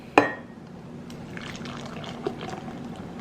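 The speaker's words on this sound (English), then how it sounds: "so I'm gonna go ahead and pour it into my glass" Hot chocolate poured from a pan into a glass: a sharp clink at the start, then a steady, fairly quiet liquid trickle and splash running for a few seconds, with no talking.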